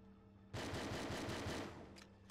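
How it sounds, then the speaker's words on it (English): Rapid bursts of P2K pistol fire from the rapid fire glitch in 007: Agent Under Fire, a dense, loud stream of gunshots lasting about a second before fading, with a couple of faint clicks afterward. "Here's an example of the rapid fire glitch being used in any percent to take down an enemy that's holding a shotgun."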